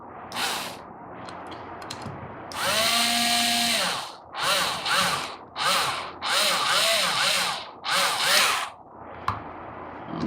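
A power drill tightens screws on a coolant proportioning pump being assembled from a repair kit, whirring up close in a string of short bursts of varying length with small pauses between.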